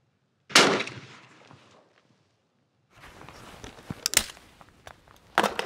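Shotguns fire at clay targets during ABT trap shooting, with one sharp loud report, a short quiet gap, then a burst of clattering and thuds followed by another shot near the end.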